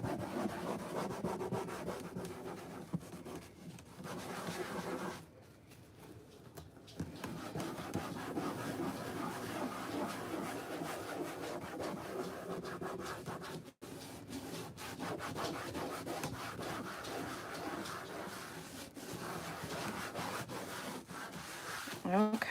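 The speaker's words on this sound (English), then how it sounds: "I do use the polishing pad just to make sure it's good and burnished on there" Polishing pad rubbed back and forth to burnish a transfer onto a suitcase, making a continuous close scraping and rubbing that pauses briefly midway.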